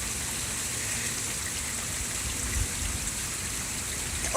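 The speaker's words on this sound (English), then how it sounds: "You can hear how powerful this hurricane is." Hurricane Sandy's wind and rain roar as a steady, dense wash of noise at the coast near high tide, loud and continuous without a break, with no talking.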